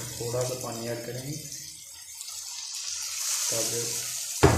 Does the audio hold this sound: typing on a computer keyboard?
no